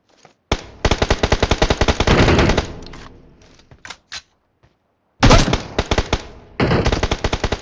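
Automatic gunfire from the battle royale video game BGMI, loud rapid bursts of shots broken by short pauses, close and with no voices.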